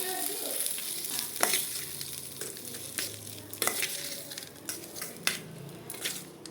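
A spoon stirs fried tempering through boiled vermicelli upma in a pan, with steady scraping and soft sizzling. Occasional sharp clinks of metal against the pan punctuate the mixing, close by and with no talk.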